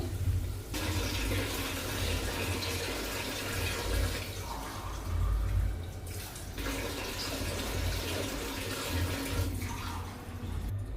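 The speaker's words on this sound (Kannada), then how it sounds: "ಒಂದು ದೊಡ್ಡ ಗ್ಲಾಸಲ್ಲಿ ಐದು ಗ್ಲಾಸ್ ನೀರು ಹಾಕ್ಕೊತೀನಿ" Water pours steadily into a cooking pot for a ragi vegetable soup, a continuous loud splashing gush that runs unbroken through the clip with no voices.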